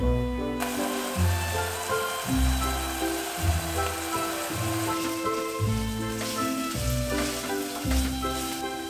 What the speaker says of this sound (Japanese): オリーブオイルをひいた鍋でニンニクと玉ねぎを炒めていきます